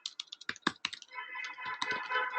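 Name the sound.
typing an email on a computer keyboard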